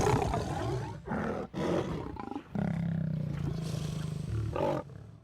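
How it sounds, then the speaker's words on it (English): Lions near a river crocodile give deep, growling roars in several bursts with short gaps between them, close and loud. "In mere moments, one of the lions spots a crocodile and alerts the rest of the herd."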